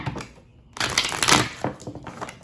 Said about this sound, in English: let's go ahead and get these cards shuffled